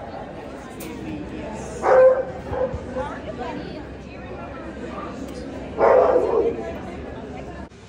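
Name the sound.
dog barking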